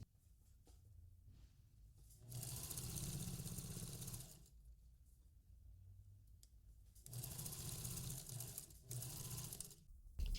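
A sewing machine stitches the cuff of a child's romper in two loud bursts of steady whirring, separated by quiet pauses in between.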